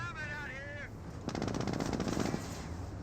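Rapid bursts of small-arms and machine-gun fire from Panzer Grenadiers in the real-time strategy game Company of Heroes, a loud rattling volley in the middle of the clip, with a short whistling tone at the start and battle noise around it.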